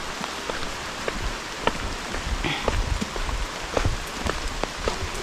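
Steady rain falls outdoors at a building site for a nipa hut, a dense continuous patter on surfaces with scattered louder drips, moderately close, with no voices.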